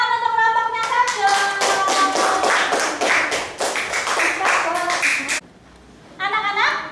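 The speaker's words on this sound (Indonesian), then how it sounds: "Tepuk tangan untuk kelompoknya Sabdo." Schoolchildren in a classroom clap together for a group presentation, a run of fairly loud, close hand claps under children's voices, with a brief pause before more voices return.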